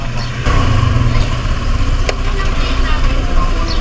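A motorcycle engine idles close by, giving a steady low, even rumble for the whole stretch, with faint voices in the background.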